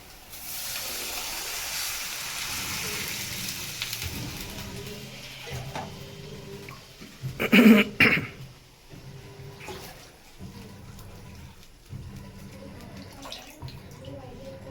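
Water is poured from a small pot into a cooking vessel to make upma. It gives a soft, steady running hiss, with a louder splashing burst in the middle and quieter trickles after it, under some talk.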